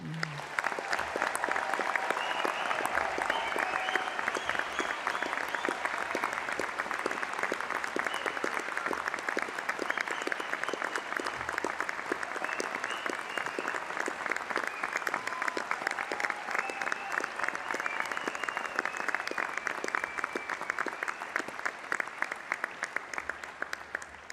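A graduation ceremony audience at Flinders University applauds the graduates, a long, steady roar of many hands clapping in a large hall, unbroken and fairly loud throughout.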